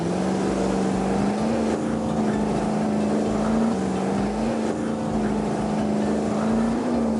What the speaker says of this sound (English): The back engine just doesn't seem to have the power to pull them out.